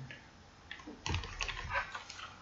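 A few computer keyboard keys are pressed for a Ctrl shortcut: brief, close clicks in a short burst, alone with no speech.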